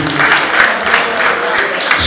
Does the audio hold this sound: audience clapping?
yes